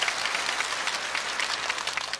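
A crowd at a televised outdoor singing contest in Damyang, South Korea, applauds steadily, a dense wash of clapping hands holding an even level throughout.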